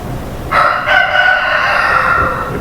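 A rooster crows in one long drawn-out call that starts abruptly, loud and fairly close, holding steady for about two seconds before trailing off.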